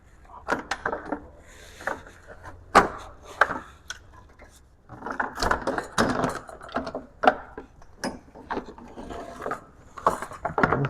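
Bolts are worked loose from the engine shroud of a Mazda B2200 pickup, giving irregular metallic clicks, taps and scraping rattles in scattered bursts, close by and moderately quiet.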